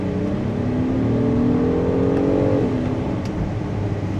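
A 2026 Acura MDX Type S engine, heard from inside the SUV while driving, rises in a smooth revving climb after a downshift, then drops back to a steady drone under constant road noise.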